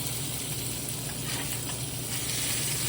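Salmon cakes sizzle steadily in a hot frying pan, a loud, continuous crackling hiss close by with no pauses and no talk.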